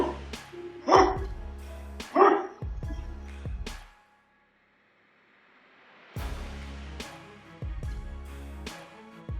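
Several dogs bark in sharp, loud bursts during a store break-in, two strong volleys early on, then a brief quiet gap before more scattered barking returns.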